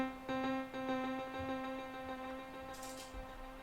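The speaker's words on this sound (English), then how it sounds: "we get a very long delay with a lot of high frequency information and a lot of transients" Short plucked notes fed through the JST Soar tape delay plugin with age turned all the way down, leaving a long trail of crisp, bright repeats that fade gradually, played quietly with no talking.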